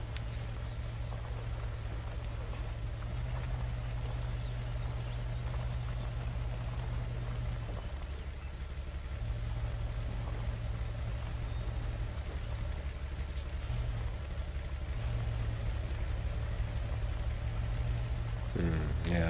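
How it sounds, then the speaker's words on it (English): Truck engine in the off-road game Spintires, a Unimog U1650 or Kamaz 4911 Rally mod in high desert terrain, droning steadily low and loud with small shifts in pitch as revs change. "Sound of this truck is really great."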